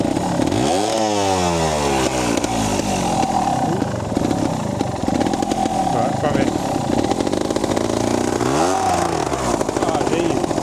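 Trials motorcycle climbing a big hill in first gear, its engine revving up hard in rising sweeps, dropping, then surging again near the end; loud and close, with a brief spoken remark over it.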